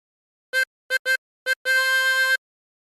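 A harmonica sounds five blown notes on hole 4, a few quick reedy pips followed by a long sustained tone, close and clean with nothing else heard.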